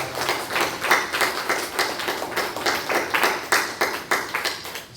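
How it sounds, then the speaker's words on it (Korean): A church congregation claps during a Sunday worship service after a choir hymn, giving glory to God. Many hands strike in a steady, rhythmic beat, about two claps a second, fairly close and even, with no voices. "우리 모든 영광 하나님께 박수로 올려드리겠습니다."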